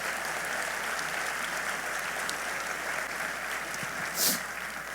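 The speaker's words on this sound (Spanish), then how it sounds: "denle un aplauso al Señor" Sustained applause from a church congregation honouring the Lord during a sermon, a steady dense wash of clapping filling the space throughout, with no talk over it.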